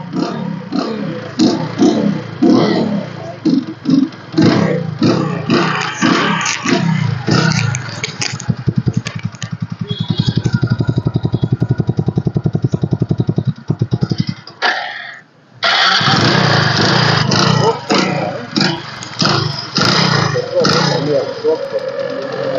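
A 2017 Hero Passion Pro BS4 motorcycle with self start engine starts and runs, a steady close engine note that briefly cuts out and then picks up again, with someone talking over it before and after.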